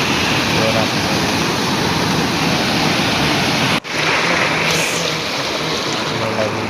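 Water flows forcefully in a loud, steady roaring rush heard close up, briefly interrupted by a short knock midway, with faint voices beneath.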